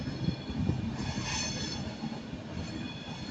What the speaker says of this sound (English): It's a 1335 Avanti West Coast service to London Euston by Royal Scot 390